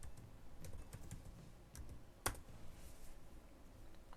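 Keystrokes tapped on a computer keyboard, a quiet, irregular run of light clicks with one sharper click partway through, heard close and alone against a soft background hiss.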